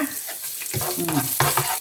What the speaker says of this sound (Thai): ใส่กระเทียมเลยนะ